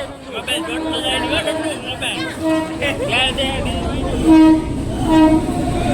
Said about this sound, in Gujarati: આ જો આવી ગઈ ટ્રેન